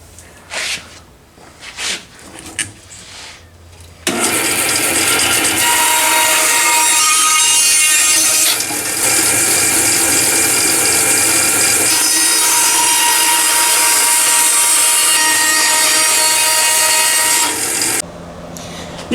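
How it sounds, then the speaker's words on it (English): Bandsaw cutting a wooden log into a screwdriver handle shape, a loud continuous rasping whine for about fourteen seconds after a few quieter knocks, close and without speech. "We're going to take it over to the bandsaw and turn it into something handle shaped."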